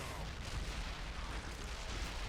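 A tank explodes and burns during battle in a Warhammer 40k strategy game mod, heard as a dense, steady rumbling roar of blasts and artillery-like booms with no pauses.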